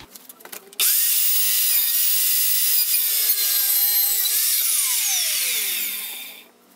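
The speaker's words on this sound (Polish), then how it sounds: "Teraz przycinam podstawy na właściwą długość 130 cm." A power saw cuts wooden shelf bases to a 130 cm length, a loud, close, continuous high-pitched cutting whine lasting about six seconds before winding down, with a few handling knocks at the start.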